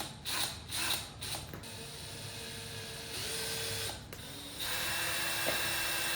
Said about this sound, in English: now I'm gonna drill little holes for the hooks before I put it on the wall